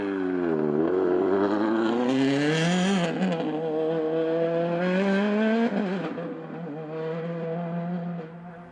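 A rally car at the WRC Monte Carlo rally revs hard and loud close by, its engine note climbing through gear changes, dropping, then rising again before easing off.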